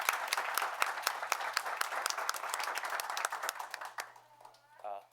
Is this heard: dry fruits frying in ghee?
no